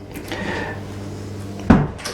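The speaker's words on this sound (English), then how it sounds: "if we come out of here, close that door" A cabin door on a Riviera 395 SUV yacht swings shut with one sharp wooden thud near the end, after soft shuffling and handling noises inside the cabin.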